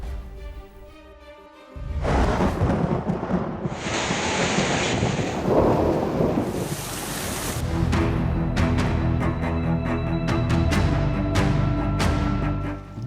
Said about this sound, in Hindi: कराची में तेज हवाओं के साथ बारिश ने तबाही फेर दी।